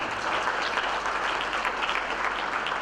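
Congregation applause during a church sermon on God's love, a steady dense wash of clapping from a crowd, fairly loud and continuous throughout with no talk over it.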